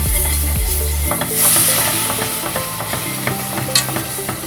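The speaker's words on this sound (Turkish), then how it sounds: "Sütümüzü alıyoruz yavaş yavaş sürekli karıştırarak sürekli karıştırarak aynı zamanda unumuzun da topaklanmasını engelleyeceğiz" Milk being stirred gradually into flour for a béchamel sauce, a low bubbling sizzle with repeated soft scraping and clicking strokes of a utensil against the pan, continuous and close, with no talking.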